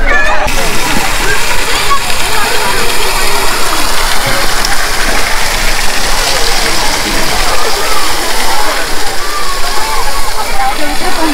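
A waterfall at a hilltop viewpoint near a small watch tower in Daringbadi, Odisha, roars as a loud, continuous rushing wash of water, close and steady throughout.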